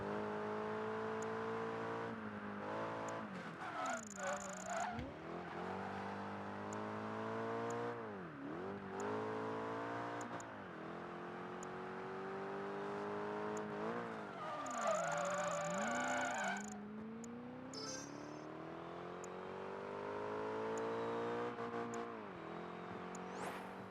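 Race car in Project Gotham Racing 3 sliding through turns on a Whitehall street course, engine revving steadily while tires squeal in repeated skids, with brief bursts of loud screeching between sweeps of rising and falling engine pitch, no voices.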